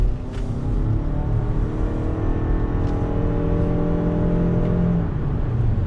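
A 2019 Toyota RAV4 Hybrid pulls through a right-hand turn under throttle, its engine giving a steady rising drone with road and tyre noise, heard loud from inside the cabin without speech.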